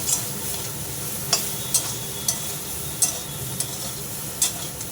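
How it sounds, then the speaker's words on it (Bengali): Soaked soybean chunks sizzle in hot oil in a wok, a constant close hiss punctuated by sharp, irregular clicks and scrapes of a spatula stirring them, with no talking. "সয়াবিনটা আমার ভাজা হয়ে গেছে তুলে নেব"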